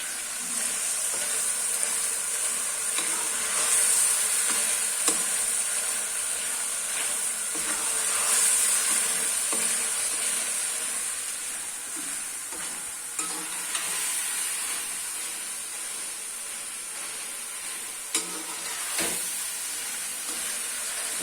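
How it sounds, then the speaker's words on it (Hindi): Spices, fenugreek and tomatoes are fried in a pan for a Pakistani mixed vegetable dish, with a continuous soft sizzle, occasional stirring clicks and scrapes, and no talking. "सारे मसाले को और मेथी को, टमाटरों को, इन सब चीजों को थोड़ा सा भून लेना"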